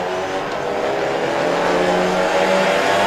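A Renault Clio Mark IV Clio Cup race car running on track at BalatonPark: a continuous, loud engine drone with steady tonal harmonics that swells slightly as it goes, with no talk.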